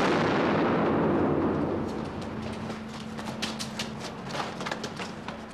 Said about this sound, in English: On hearing that last gunshot,